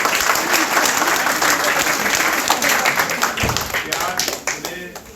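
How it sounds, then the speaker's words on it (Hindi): A campaign rally crowd breaks into loud, rapid clapping that carries on for several seconds, peaking early and then thinning slightly, with a few sharp individual claps standing out and talk mixed underneath. "मैं एक दफा कहूँगा जोरदार ताली हमारे भाई"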